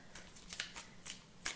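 Tarot cards are shuffled and drawn by hand, giving soft, quiet papery flicks and riffles in a few quick bursts over a second and a half.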